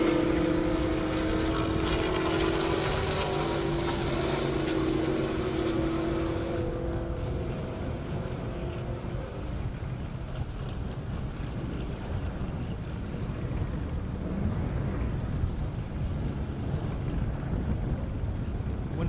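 Drag race cars launching down an airport airstrip, a loud engine roar close by for several seconds that fades into a distant rumble, with faint crowd and wind noise beneath.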